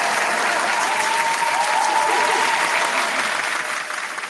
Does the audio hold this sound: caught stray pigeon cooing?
no